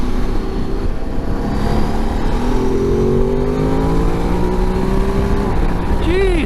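Ducati DesertX motorcycle accelerating hard, its engine note climbing steadily and loud throughout, with rising harmonic sweeps; the rider speaks briefly over the engine near the end.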